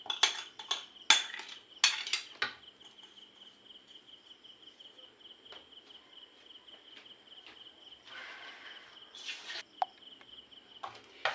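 Beaten eggs mixed with a spoon in a bowl for pancake batter, quick clinking scrapes in bursts at the start and again near the end, with a faint steady insect chirp behind.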